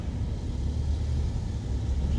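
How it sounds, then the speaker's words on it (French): A car inching forward in Lausanne with almost no throttle, its engine giving a steady, soft low rumble at idle from inside the cabin, with no voices. "Juste un tout petit peu de gaz, la voiture elle avance toute seule."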